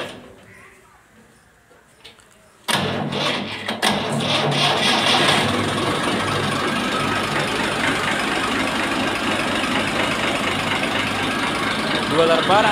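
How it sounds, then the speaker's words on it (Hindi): A 2012 Massey Ferguson 260 turbo tractor engine cranks and catches at around three seconds, then settles into a loud, steady diesel idle with a knocking rumble. Someone speaks briefly over the running engine. "ट्रैक्टर नूं दोस्तों सलफ मारन लगे हाँ जी।"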